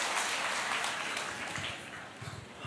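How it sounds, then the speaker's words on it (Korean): A lecture audience cheers and claps together in a dense, continuous wash of applause and shouting that thins slightly near the end. "여러분들 함성이 좀 달라진 것 같아요."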